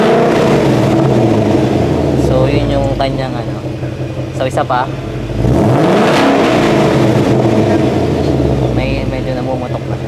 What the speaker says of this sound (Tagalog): So, yun yung kanyang mga exhaust mode niya. So, four types yun. Quiet, normal, sports, trap.